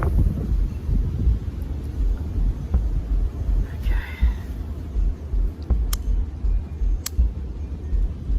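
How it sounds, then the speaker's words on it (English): Strong outdoor wind buffets the microphone during a rockhounding outing for flint, a steady low rumbling roar that lasts throughout with gusty swells and a few faint higher ticks. "Crazy wind, man."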